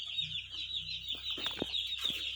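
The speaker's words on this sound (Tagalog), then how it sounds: "yung iba pong mga sisiw na medyo natutulog ay magigising po yan tatakbuhan po yan" Newly hatched chicks peep in a steady, high-pitched chorus close by, with a few louder individual calls breaking through near the end.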